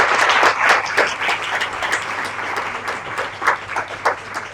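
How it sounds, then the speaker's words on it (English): An audience at a university event applauds, a dense wash of many hands clapping that starts strong, then thins and swells in uneven bursts, fairly close and loud. "vi chiederei di applaudire così"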